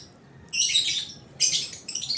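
Two bursts of high, bright bird chirping, close by, with a short pause between them over a quiet background.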